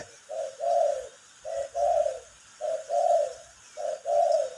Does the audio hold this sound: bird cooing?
yes